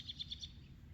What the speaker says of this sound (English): Birds are really pretty right now, or sound really pretty.